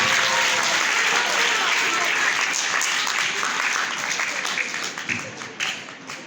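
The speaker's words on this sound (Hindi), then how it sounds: "अपने वालिदैन के लिए बहुत सारी तालियां" Dense applause from a large group of people at a school gathering is already going loudly, then thins out toward the end into scattered claps.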